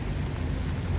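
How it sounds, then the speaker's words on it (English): Steady rain falls outdoors on a flooded Friday afternoon in Portland, Oregon, with a dense, even wash of hiss and low rumble throughout and no voices. "because it's raining"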